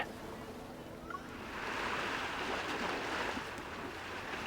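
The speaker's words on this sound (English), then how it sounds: "Why do I hear waves in the background?" Ocean waves carry over a phone call in the Love and Deepspace video game, a steady wash of surf that swells louder halfway through and then holds at a moderate level.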